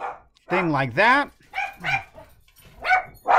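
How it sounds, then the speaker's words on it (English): Several dogs bark and yip in quick, overlapping bursts close by, with a person briefly speaking among the barks. "Oh, I apologize about the dogs."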